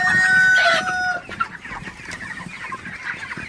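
Broiler chickens on a poultry farm give a loud rising call at first, followed by softer scattered clucks and rustling close by.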